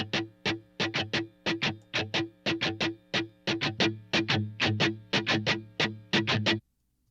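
Muted, scratchy Telecaster electric guitar strings are struck in a quick, choppy rhythm, each percussive chunk clipped short, with a faint hum between strokes.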